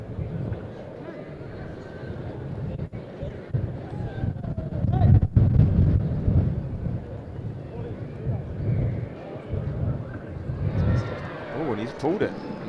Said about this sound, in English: Gives you an idea how blowy and windy it is today.